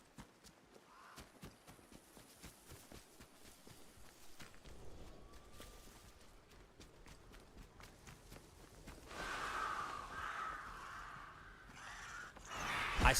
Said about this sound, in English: These birds is trying to kill me!